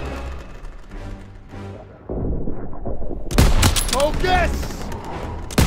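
Rapid bursts of gunfire erupt in a Call of Duty WW2 campaign battle, loud and dense after a quieter stretch, with shouted voices over the shooting.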